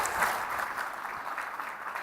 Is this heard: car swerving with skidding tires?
no